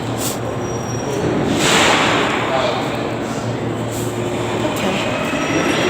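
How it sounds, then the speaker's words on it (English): A train rumbles past with a continuous rolling roar, faint wheel squeals and clicks over the rails, heard up close in a busy station. "there are all sorts of trains here"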